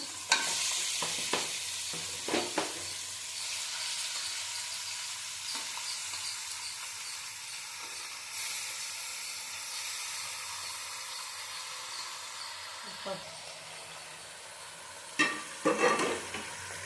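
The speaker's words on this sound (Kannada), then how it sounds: "ಇದು ಮಟನ್ ಹಾಕಿದ್ಮೇಲೆ ಈ ಥರ ಕಲಸ್ಬೇಕು" Mutton and onions fry in a pan over low heat for sambar, a steady hissing sizzle with repeated spoon scrapes and clanks from stirring, close and without speech.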